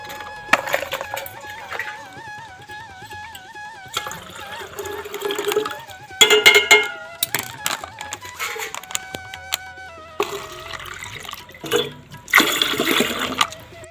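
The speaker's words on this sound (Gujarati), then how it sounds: "હવે આપણે અંદર એડ કરીશું પાણી" Water poured into fresh lemon juice for a homemade soda sherbet, a splashing, gurgling pour in bursts over steady background music.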